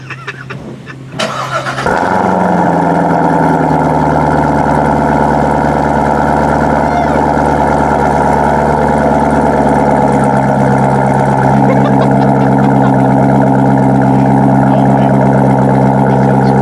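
A 2019 Chevrolet Corvette Z06 fitted with a Corsa exhaust cranks over, fires up loudly and settles into a deep, steady rumbling idle that stays strong and close for the rest of the clip.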